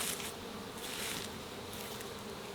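A steady, dense hum of a honeybee colony at a beehive during a summer honey flow, droning continuously at moderate loudness.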